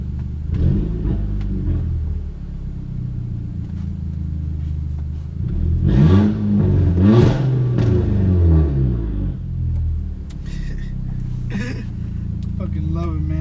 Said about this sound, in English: the car still sounds crazy